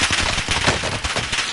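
Rapid automatic gunfire in a shooter video game, a dense, loud burst of overlapping shots filling the short moment with no voices over it.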